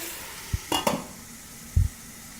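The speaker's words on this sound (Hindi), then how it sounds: "अब अच्छी तरह से इसको तेज़ आंच पे भून के" Potato and eggplant pieces stir-fry over a high flame, a soft background sizzle broken by a few short clunks and scrapes of a spatula against the pan, with no talking.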